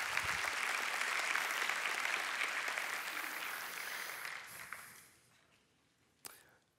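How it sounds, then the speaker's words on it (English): A congregation gives a big round of applause at a church talk, loud dense clapping that gradually fades out, followed by a single sharp clap near the end. "Give them a big round of applause."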